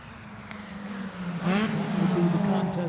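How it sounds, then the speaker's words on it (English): Mazda Miata race cars on the Sam Posey straightaway at Lime Rock Park during a race, a steady engine drone rising in pitch as the cars accelerate, moderately loud and continuous. "Here's the battle between Justin Tracy in the 33 and Alex Rubenstein in the 600 coming down the Sam Posey straightaway."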